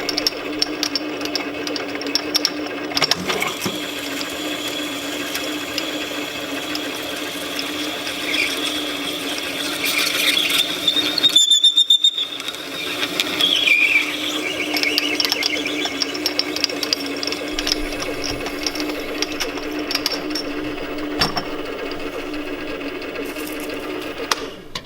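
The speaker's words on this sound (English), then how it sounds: "I'm going to go in the rest of the way to a 1 inch depth." Drill boring a hole to a one-inch depth in a scooter peg, a steady close machine whine that holds for most of the stretch, broken by one brief stop partway through before it resumes.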